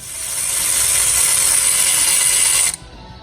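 A ratchet cranking a corroded 22 mm bolt out of a Jeep Liberty 3.7 engine during head and timing chain removal, a steady, close, loud clicking run that stops abruptly.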